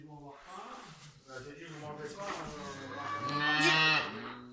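Cows in a barn moo in long, deep, drawn-out calls, overlapping and swelling louder toward the end.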